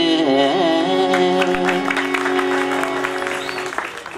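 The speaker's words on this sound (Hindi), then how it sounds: "जोरदार तालियां" Applause from an audience at a classical music performance swells beneath a held sung note and lingering instrumental drone, the clapping growing more prominent as the music fades out.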